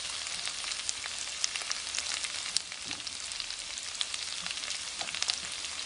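A pot sizzles and fries steadily as rice is added by hand, close and moderately loud, with small crackles and pops scattered over the continuous hiss.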